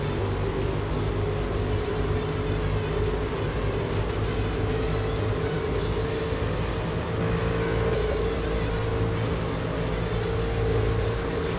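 Race cars roaring around Daytona in NASCAR 2001, a steady, loud drone of engines at full speed with a constant whine and occasional swells as cars pass, no talking.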